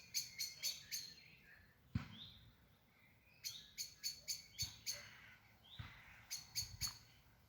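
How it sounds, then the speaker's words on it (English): Birds tweet in a park in Camborne, with short bursts of quick, bright chirps repeating in clusters over a quiet outdoor background, faint and somewhat distant. "You can hear the birds tweeting here all day."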